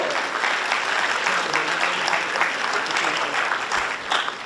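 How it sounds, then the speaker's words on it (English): Sustained applause rolls through a big conference hall during an inaugural address, a thick, even roar of many hands clapping with no break, heard from within the crowd. "A huge applause"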